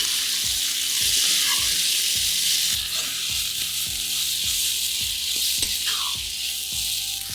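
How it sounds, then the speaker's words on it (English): Sliced onions sauté in a pan until brown, a steady close sizzle with a regular series of soft stirring scrapes running throughout. "Now saute the onions till they are brown in color."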